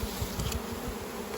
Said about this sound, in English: there's a whole lot of bees in that box